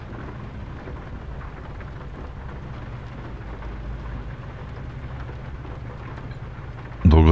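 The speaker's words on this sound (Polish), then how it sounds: "Szkoda tylko, że coraz bardziej pada." Steady rain with rumbling thunder in the trucking game American Truck Simulator, a continuous low wash with no speech, ending in a sudden loud burst in the final moment.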